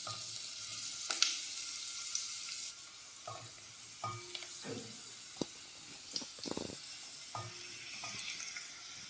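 Onions frying in a pot for chicken pilau, a continuous sizzle broken by repeated clanks and scrapes of stirring, with no voices.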